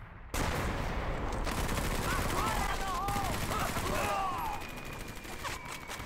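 Sustained gunfire from the WWII shooter Medal of Honor: Vanguard, a dense continuous barrage of shots with whizzing effects, loud and close throughout, with voices faintly mixed in.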